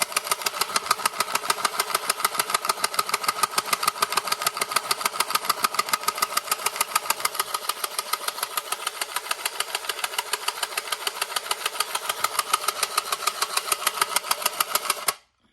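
Horikawa piston robot toy running its head action mechanism, a fast, steady mechanical chattering buzz that continues evenly up close before stopping abruptly.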